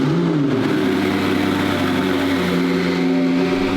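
The engine of a replica McLaren built from cheap parts runs steadily at close range, a loud droning idle whose pitch dips and settles partway through, with no talking over it.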